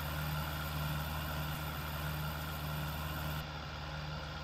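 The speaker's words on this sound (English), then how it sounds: "This is a four-wheel drive tractor." A four-wheel drive tractor engine runs steadily at a low idle-like rumble, close and continuous, with a slight change in tone near the end; no talk over it.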